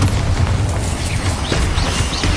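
Bombarda explosion spell blasts in Hogwarts Legacy, heavy booming low rumble sustained and loud throughout, with crackling bursts layered over a dense battle din.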